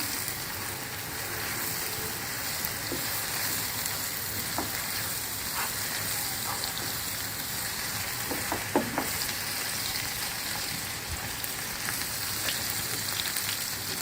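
Vegetable noodles with chicken and fresh cream are stirred in a frying pan, giving a soft continuous sizzle with scattered light scraping and tapping sounds throughout, no talking.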